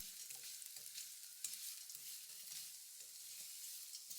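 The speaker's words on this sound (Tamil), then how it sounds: "லோ ஃப்ளேமில் கைவிடாமல் ஃப்ரை பண்ணி எடுத்துக்கோங்க." Chana dal and spices frying on a low flame for a homemade masala: a faint, hissing sizzle with soft intermittent scraping as the mix is stirred continuously, quiet and close with no voices.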